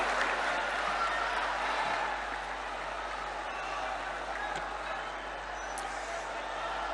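Applause from a large rally audience at an event in Sagar, Madhya Pradesh, a steady, distant wash of many hands clapping that holds level for several seconds, with crowd murmur beneath.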